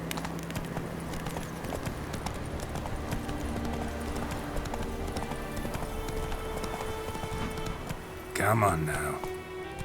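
Hoofbeats from Roach, Geralt's horse in The Witcher 3, galloping in a steady clip-clop rhythm under background game sound, with someone speaking briefly and a short burst of noise near the end.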